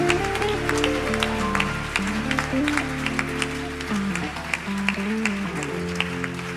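A church congregation claps and cheers in sustained, dense applause, with organ or keyboard music and voices underneath.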